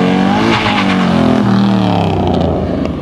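A car leaving a car show revs its engine hard, close and loud, the pitch climbing and falling through repeated throttle blips over a continuous rumble.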